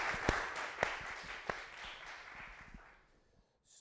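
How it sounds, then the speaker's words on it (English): Audience applause at an Ofcom data innovation wrap-up event, a short round of clapping from a modest indoor crowd with a few sharper claps, fading out after about three seconds. "Big round of applause for that."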